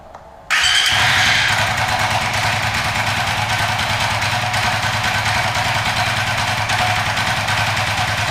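A Suzuki FU 150 fuel-injected motorcycle engine starts abruptly after a short quiet moment, then settles into a steady, loud, close idle that runs unchanged to the end.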